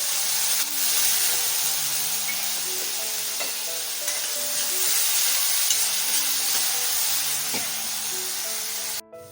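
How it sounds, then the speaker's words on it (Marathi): Small diced potato pieces sautéing in a pan for sabudana khichdi, a steady loud sizzle of frying throughout with occasional stirring scrapes and clicks, no voices. "छोटा बटाटा घेतला आहे शिरून तो टाकते तर आपण व्यवस्थित परतून घ्यायचं आहे शिजला पाहिजे"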